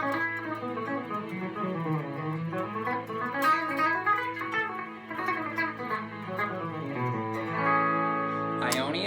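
Guitar playing a melodic line in the Lydian mode, a continuous, close run of notes sweeping up and down with a slightly driven electric tone, ending in a sustained chord.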